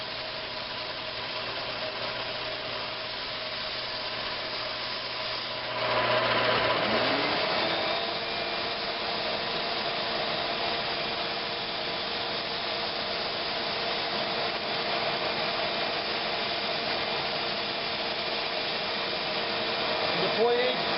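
Sandpaper of 150 grit pressed against a wooden rolling pin spinning on a woodturning lathe, making a steady whirring drone that shifts in tone partway through and holds on, with no talking.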